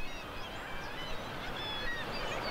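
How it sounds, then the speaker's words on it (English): Atlantic puffins calling from their burrows on a rat-free island, with many overlapping faint, thin calls over a constant wash of wind or sea noise, distant and layered, no voices. "Puffins call from their burrows while their partners are out fishing."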